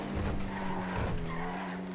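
Car tires squealing in a long continuous skid while driving in GTA, with a steady engine drone underneath, loud and close throughout.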